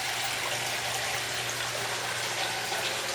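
Water pours steadily into an aquaponics sump, a continuous rushing splash with a low pump hum underneath, even and unbroken throughout.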